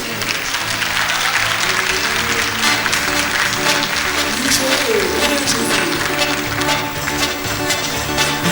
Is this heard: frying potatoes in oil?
no